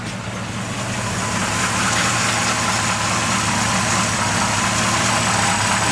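An old 1984 GMC pickup truck's engine idles steadily nearby, a low, even rumble with a slight mechanical rattle and no talking.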